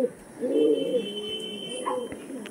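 Pigeons coo in soft, low, rolling phrases, close and moderately loud, over a faint steady background hum, with a brief higher chirp near the end.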